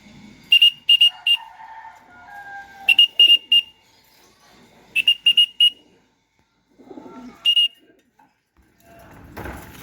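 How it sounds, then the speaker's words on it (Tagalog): Racing pigeons in an outdoor loft area. Groups of three or four sharp whistle bursts repeat several times, with soft low coos and rustling between them. "Naglalaban ang mga ibon, sila nga nananamasigla. Racing pigeons, dito walang takot sa karera."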